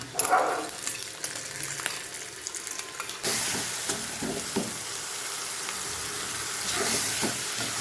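Onions fry in a pan as a raw ground paste is added, producing a loud burst of sizzling and clatter, then a steady hiss with repeated stirring scrapes and taps of a spatula.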